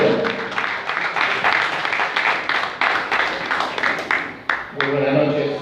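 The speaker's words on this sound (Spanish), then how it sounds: "Fuerte palmas para el ingeniero Elías Chetko" An audience at an 80th anniversary commemoration held by a friendship and cooperation association gives a mechanical engineer a strong, sustained round of applause, loud and even, before a voice starts speaking near the end.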